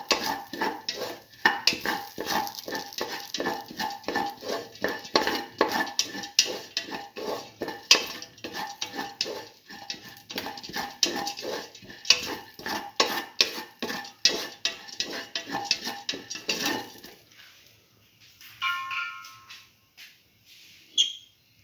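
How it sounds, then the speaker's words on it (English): A spoon stirs and scrapes through black lentil and ash gourd stew in a metal pot, giving rapid rhythmic clinks and scrapes that fade into a few scattered taps near the end. "Thoroughly salt and mix."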